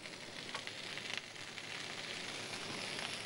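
Baby corn and mushrooms fry in a pan with a continuous close sizzle, crackling steadily throughout, with a few brief stirring scrapes and no talk.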